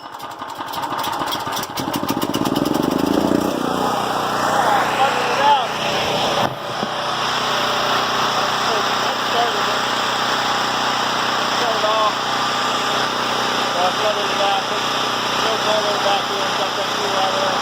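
A portable generator, being readied for a hurricane, cranks up and then runs at a loud, steady drone close by for the whole stretch, with voices faintly under the engine.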